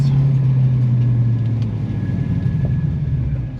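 A deep, steady rumble from an LS1 V8-swapped Porsche 911 called the PowerKraut, on a road course, loud and close, with a low engine note that eases slightly partway through and no voices.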